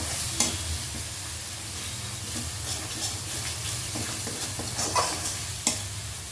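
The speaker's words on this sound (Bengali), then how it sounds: "সমস্ত কিছুকে একটু মিশিয়ে নেব" Spices (cumin powder, red chili, a pinch of turmeric) are stirred and mixed in a pan while making fish fingers, with a steady scraping stir over a soft sizzle and a few sharp clinks of the utensil against the pan.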